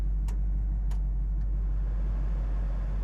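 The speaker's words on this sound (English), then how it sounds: "The AC does function. Have it on high right now. Hopefully you guys can hear that." The air conditioning blower of a 1968 Pontiac Firebird runs on high as a steady low drone, with a couple of faint ticks near the start.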